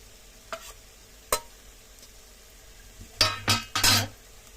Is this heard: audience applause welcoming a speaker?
no